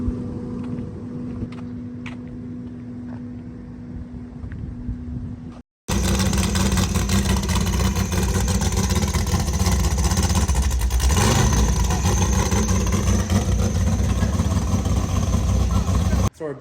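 Inside a Ram pickup towing a trailer out of Alpine, a loud, steady road and engine rumble fills the cab after a few quieter seconds at the start.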